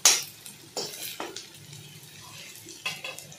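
Chopped vegetables and green chili are stirred in a frying pan, with a few scraping clinks of the spoon against the pan over a soft, quiet sizzle.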